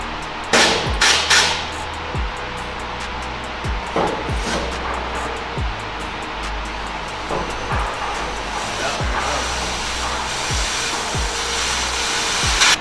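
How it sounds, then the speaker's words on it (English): Compressed air blows steadily through a Bendpak four-post car lift cylinder during installation, producing a loud continuous hiss punctuated by several sharp metallic clanks and knocks, with no talking. "Use this and push some air through that. The cylinder should start coming out."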